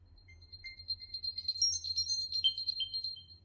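A high, thin synth melody rings out in quick bell-like notes over a low, soft bass hum in a house music track, fairly quiet.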